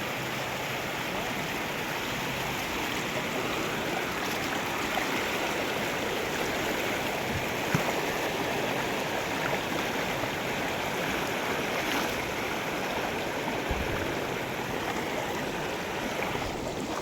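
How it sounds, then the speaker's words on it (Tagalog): A strong mountain river rushes past close by, a dense, unbroken roar of churning water that holds steady and loud throughout with no pauses. "Medyo malakas-lakas yung agos mga kabundok"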